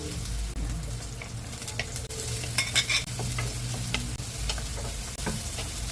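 Chopped onion and tomato sautéing in a pan for squid adobo, a loud close sizzle with repeated scraping and stirring strokes over about six seconds, without talk.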